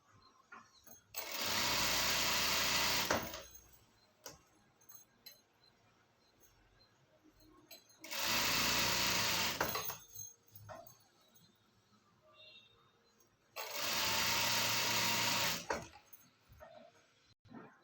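Sewing machine stitching trousers, running in three separate loud bursts of about two seconds each, with quiet pauses between them.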